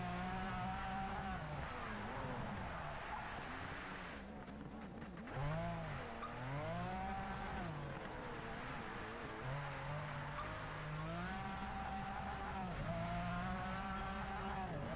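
A 1992 McLaren F1 races in the video game Project CARS 3, its engine note sweeping up and down through gear changes and corners, with tire squeal and skidding mixed in, continuous and fairly loud.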